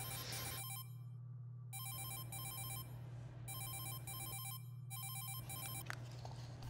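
A telephone rings in repeated bursts of bright, electronic trilling, separated by short gaps, over a steady low hum throughout.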